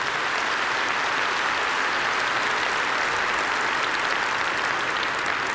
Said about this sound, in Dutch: Ik wil ook graag nog een groot applaus voor de fantastische sprekers die we deze ochtend hier hadden.